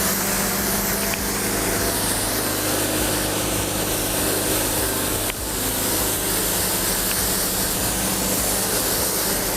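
A steady, broad hiss of a pressure-washer water spray rinses cleaning product off a Mercedes C43 AMG, continuous and close for nearly ten seconds with only slight changes as the spray moves across the panels.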